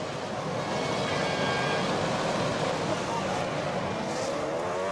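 Formula 1 cars pull away from the grid at the start of the 2005 Monaco Grand Prix, a dense, steady roar of racing engines filling the scene without a break, with faint commentary talk beneath.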